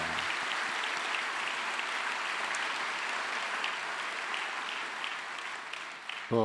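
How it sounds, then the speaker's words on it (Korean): A church congregation gives sustained applause for a choir after its hymn, a steady dense wash of many hands at even loudness that cuts off abruptly near the end. "다시 한번 큰 격려의 박수 부탁드립니다"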